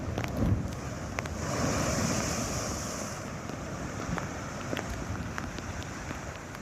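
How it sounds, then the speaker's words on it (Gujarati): High sea waves pound the Alang coast during monsoon weather, a steady roar of surf mixed with heavy wind buffeting the microphone, with no voices. "દરિયામાં 10 ફૂટથી વધુ ઊંચા મોજા ઉછળતા જોવા મળ્યા।"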